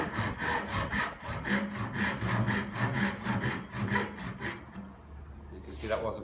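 A hand saw cuts wood for a half lap joint with rapid, rhythmic rasping strokes, close and loud, that slow and stop near the end before a brief final scrape.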